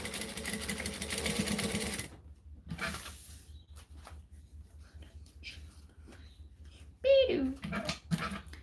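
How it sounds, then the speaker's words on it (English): A sewing machine stitches fabric in a fast, close, steady run for about two seconds, then stops; quieter handling sounds and a dog whimpering briefly follow. "So then we just line it up, stitch it down."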